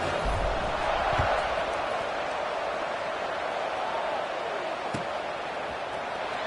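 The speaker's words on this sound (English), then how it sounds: "this crowd is buzzing after that last score" Crowd noise fills a football stadium as a steady, loud roar and murmur that holds nearly level throughout, with a few faint thumps underneath.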